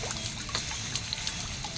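Floodwater trickles and pours steadily during a typhoon with heavy rain, a close, continuous watery flow with no one speaking.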